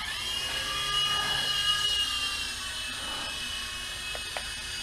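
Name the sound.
GP Toys G610 3.5 channel toy helicopter flying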